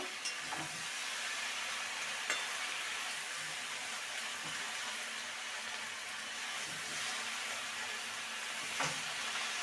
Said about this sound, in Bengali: ধুয়ে রাখা পালং শাকগুলো দিয়ে দেবো এবার ভালো করে নেড়ে নেব